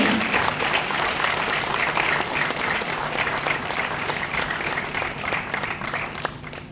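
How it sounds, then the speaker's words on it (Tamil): Audience in a hall at a cultural festival gives steady, dense applause, many hands clapping loudly and evenly throughout with a faint crowd murmur underneath. "உங்கள் பரத்த கைத்தட்டல்களோடு அரங்கம் அதிரட்டுமே."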